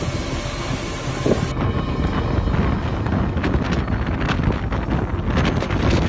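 Strong typhoon wind in a Chinese city roars and buffets the microphone continuously, a loud rumbling gust with no voices, heavy and unbroken throughout.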